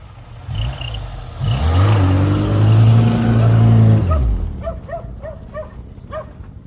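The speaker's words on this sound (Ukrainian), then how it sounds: "Так прогрівається мотор." A Zhiguli car engine warming up, rising and falling in pitch as it revs while idling, loud and close, with a dog barking repeatedly toward the end.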